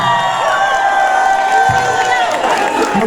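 A crowd at a concert in Paris cheering and whooping with applause, dense and loud throughout, voices shouting over the clapping.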